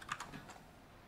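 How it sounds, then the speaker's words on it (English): A few quick faint keyboard clicks over a computer keyboard, soft close taps in a short burst, then quiet. "I can hear this guy clicking and shit, bro."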